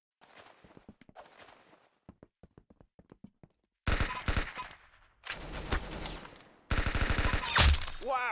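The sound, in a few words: gunfire in the video game Roblox Arsenal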